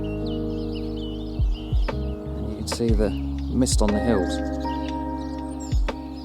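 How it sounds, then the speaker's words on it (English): Birds chirping and calling outdoors at Burke's Pass in New Zealand's Mackenzie high country, faint scattered high notes behind someone speaking over a steady low hum. "Lots of bird sound."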